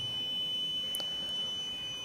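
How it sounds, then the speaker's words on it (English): A thin, steady high-pitched electronic buzzer tone from an Arduino water level alarm sounds continuously, faint against a quiet background. "The water reached to the height of 600, the buzzer start making sound"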